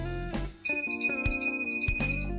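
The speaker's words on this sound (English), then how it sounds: "Now we'll test the beep function." Electronic beeps from an iPets PET619 dog training collar sound in a quick burst, several sharp tones in a row with short gaps, close and fairly loud with no talking.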